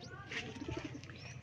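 Pigeon at a zoo cooing briefly, a few soft low coos up close, with faint rustling and background voices.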